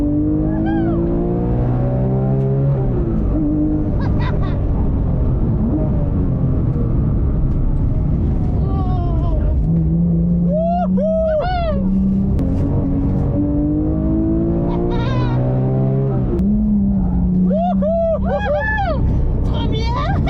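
In-car recording of a Porsche GT3 RS accelerating hard on a race circuit: the loud, high-revving engine climbs repeatedly through the gears with sharp shift breaks, while occupants talk over it.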